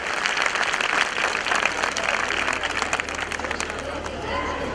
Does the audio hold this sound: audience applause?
yes